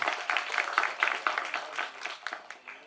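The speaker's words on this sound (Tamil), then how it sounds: "அவருக்கு நம்ம ஒரு கைத்தட்டி பாராட்டு தெரிவிச்சுக்கலாம்." Audience applause at a Tamil film audio and trailer launch for 'Savudu', many hands clapping in a steady, dense patter for about three seconds, moderately loud and thinning slightly toward the end.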